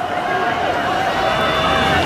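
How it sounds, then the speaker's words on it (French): A crowd surging and running near the Eiffel Tower during a SNCF strikers' and intermittents' action, a dense, steady wash of footsteps and babbling voices close by throughout. "mouvement de foule"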